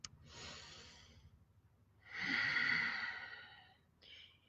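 A person breathes in deeply, audible as a long, soft airy inhale followed by a slower, fuller breath and a brief shorter one, close and quiet with no words spoken.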